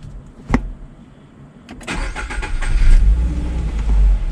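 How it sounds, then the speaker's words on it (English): A Toyota GR86 lurches and stalls as its upgraded clutch engages too quickly. A single knock is followed by a quiet pause, then loud, rough engine noise builds and holds close by, with no talking. "The clutch disengaged a lot faster than I was expecting, so I actually stalled the car."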